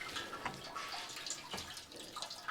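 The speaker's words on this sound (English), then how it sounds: "You can see the antifreeze in there. So let that drain for a while." Antifreeze drains from the engine of a 1969 Pontiac GTO, a faint, steady trickle and splash of liquid with scattered drips, quiet and close, with no talk.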